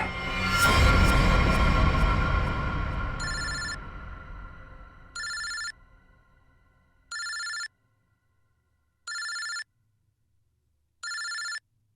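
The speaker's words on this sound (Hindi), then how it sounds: "ये किसका फोन है?" After a loud crash fades away, a telephone rings in four evenly spaced bursts, each a bright trilling ring separated by silence.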